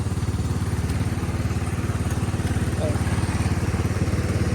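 A 1999 Cub Cadet HDS 2135 riding lawnmower engine runs while warming up outdoors in snowy weather, a close, loud, steady low putter with an even rapid pulse throughout.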